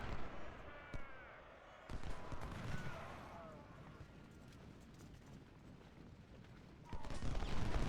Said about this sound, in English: We got a devastating volley into those guys.